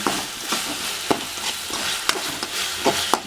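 Masala filling for bread bajji sautéing in a pan with a close, steady sizzle and sharp spoon scrapes and taps at irregular intervals. No voices.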